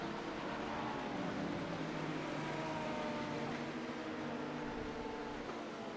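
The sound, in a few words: Lamborghini race car in the rain, iRacing video game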